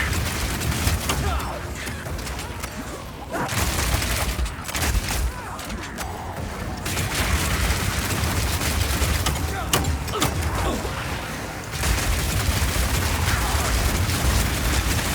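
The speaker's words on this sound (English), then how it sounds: "It has a really large clip size, so you can just keep firing and firing with it." A crossbow launches explosive grenades in Path of Exile 2, a rapid stream of shots and blasts layered into a dense, loud barrage, with short lulls between bursts of firing.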